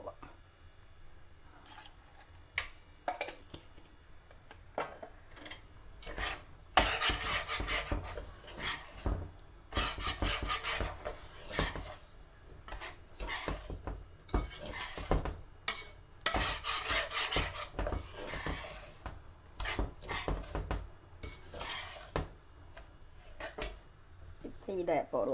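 Coconut and rava are stirred and roasted in a pan, with a long run of scraping, rubbing strokes of irregular rhythm that rise and fall close by, with a voice talking now and then.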